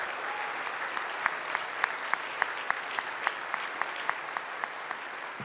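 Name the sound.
audience applause after a performance of America the Beautiful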